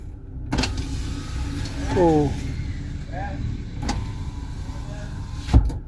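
Power windows on a 2019 Nissan Livina VE automatic hum open inside the cabin, a short motor whine with rising tones, joined by a few sharp clicks and a thump, with no talk over it.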